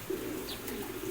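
Racing pigeons cooing in a loft after a release, soft low rolling coos close by over a steady background hum, with no talk.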